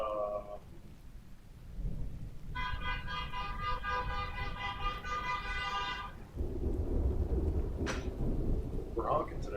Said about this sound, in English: People are just honking.